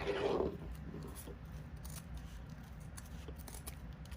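Scissors snip off excess fabric while a sequin Christmas ornament is being made, a short close cut at the start followed by quiet, faint handling noise.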